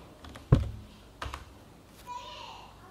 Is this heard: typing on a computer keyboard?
yes